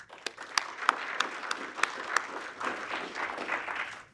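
Audience applause at a campaign announcement for a Nebraska state senate seat, opening with a few distinct loud claps that swell into a fuller, steady round of clapping from a modest crowd.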